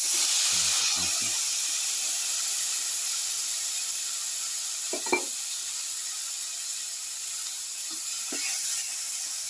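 Tomato pieces hiss and sizzle in a hot pan for a garlic cumin tomato rice casserole. The frying is steady and close, with a few soft clinks and stirring knocks.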